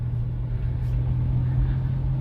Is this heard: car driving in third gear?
yes